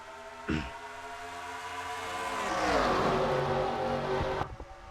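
Race cars in a stock-car racing video game at Atlanta roar together as the race starts, a broad engine drone that swells to a loud peak mid-clip, with harmonic pitch sweeps, then cuts off abruptly near the end.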